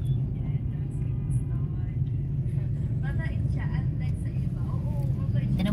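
Road traffic heard from inside a vehicle: a steady low engine and tire rumble with faint passing sounds, while people talk quietly over it.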